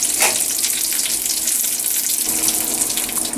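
Hot tempering poured into Sri Lankan Jaffna egg pepper sodhi, a loud steady sizzle and bubbling hiss close up, continuous for a few seconds with no talk.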